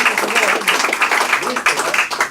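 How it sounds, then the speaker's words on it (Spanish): Audience clapping at a Spanish-language book presentation, a dense, steady patter of hands lasting the whole moment, with voices mixed in underneath. "merece un aplauso cerrado para ellos dos."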